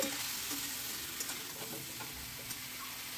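Boiled raw jackfruit and fried potatoes stirred together in a pan, a steady frying sizzle with a few soft scraping clicks of the spatula, close and continuous with no talk.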